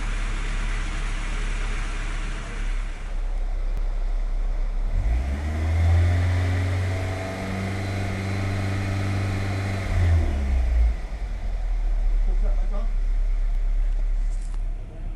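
VW Golf Mk2 1.8 with a Pierburg carburettor held at a fast idle near 3,000 rpm, a steady mid-pitched engine drone rising partway through, holding, then dropping back, close and loud.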